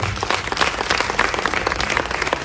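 Audience applause at a Tanzanian music launch event, dense steady clapping from a large crowd, loud and continuous with no speech over it.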